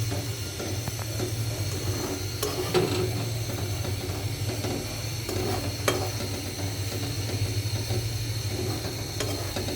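Feni paratha frying in a pan, a steady soft sizzle with occasional scraping and pressing clicks, close and continuous, over a low hum.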